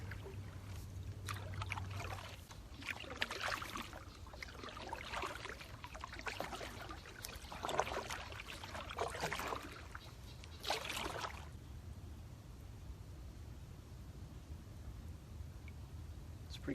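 Canoe paddling on the Wekiva River, with repeated soft water strokes and splashes close by in a quiet natural setting, steady for most of the stretch and fading near the end.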